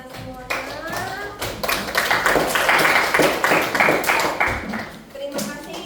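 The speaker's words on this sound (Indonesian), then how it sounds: "Oke, kasih tepuk tangannya semuanya." A classroom of students claps together in a brisk, uneven burst that swells and holds for several seconds before tapering off, close and loud, with a voice heard briefly at the start and end.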